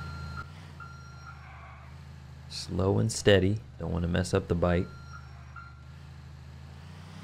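Reversing beeps from a truck backing up in GTA 4 The Lost and Damned, a steady repeating tone over a low engine hum, partly covered by someone talking in the middle of the clip.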